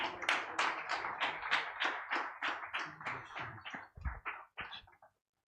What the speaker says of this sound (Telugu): ఈ చప్పట్లు ప్రభుకు చెల్లును గాక.